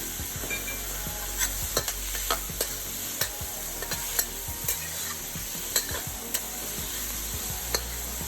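Diced potatoes frying for Korean black bean noodles, a steady sizzle under repeated sharp scrapes and taps of a spatula stirring the pan, close and continuous.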